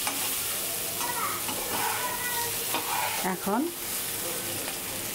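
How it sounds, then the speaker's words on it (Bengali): Mixed vegetables fry in oil in a pan for a pangas fish recipe, a loud continuous sizzle with spatula stirring and scraping, while someone speaks briefly and a voice is faintly heard. "সবজিগুলো ভাজা শেষ।"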